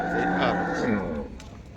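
A buffalo lows nearby at a livestock market, a deep drawn-out moan lasting about a second before fading into quieter background noise.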